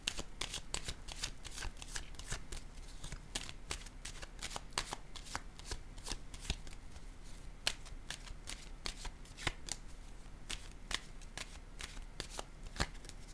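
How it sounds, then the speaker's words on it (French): Tarot cards are shuffled steadily for the whole stretch, a fast, dense run of crisp riffling snaps at close range with no voice over them. "Je vais piger une carte ici."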